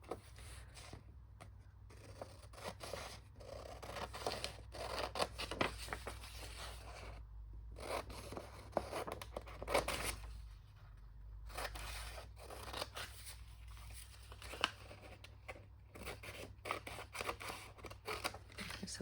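Scissors snip through a paper piece for a vintage gate fold folder, quiet close cuts in irregular runs with brief pauses over a low steady hum.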